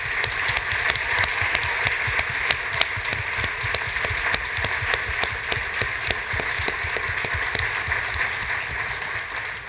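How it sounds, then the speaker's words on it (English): A lecture audience at a Huntington's disease research update gives a round of applause for clinical trial participants: sustained, evenly dense clapping with sharp individual claps standing out, moderately loud and alone throughout. "I think that we owe those 36 people, in particular, a round of applause on behalf of all of us."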